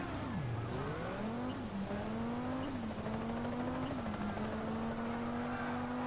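Audi Quattro rally car engine in the Sega Rally Revo racing game on PSP, revving and shifting through gears with rising and settling pitch, loud and continuous with tire and road noise underneath.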